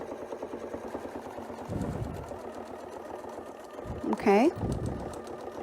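A sewing machine stitches a curved quilting design, its fast, steady mechanical hum and rapid needle clatter running continuously at close range beneath a woman's brief speech.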